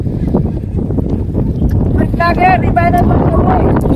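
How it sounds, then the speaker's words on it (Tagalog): Strong wind buffets the microphone on a grassy hilltop, a constant heavy rumble with someone talking over it. "Ang lakas ng hangin dito mga ka-idol"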